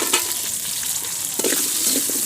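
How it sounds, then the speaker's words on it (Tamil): Green chillies cut into large pieces sizzle steadily in hot oil for sambar, a continuous close frying hiss with a few soft stirring scrapes and no voices. "நல்லா வதக்கி விட்டுடலாங்க"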